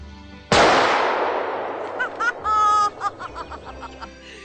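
A single sharp, loud rifle shot cracks during shooting practice and decays over about a second. Brief tonal voices, like chuckles and laughter, follow it.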